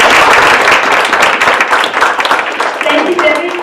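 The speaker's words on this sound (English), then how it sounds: "we're going to applaud them because they worked so hard" Audience applause for Dr. Harris and another honoree standing at a talk, a sustained dense patter of clapping from a crowd, steady and fairly loud throughout, tapering slightly near the end with a faint voice entering.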